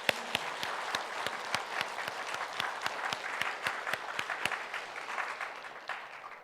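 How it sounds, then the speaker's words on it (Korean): Church congregation applauding together at a year-end service, a steady wash of many hands with a few sharp individual claps standing out, holding fairly even before easing off near the end. "그 마음으로 박수 한번 하겠습니다."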